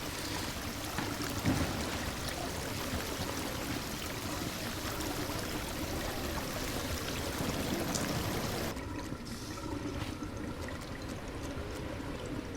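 Water running steadily into a street drain in the game Drain Sim, a continuous pouring, trickling stream that stays loud throughout, with a duller, quieter stretch near the end.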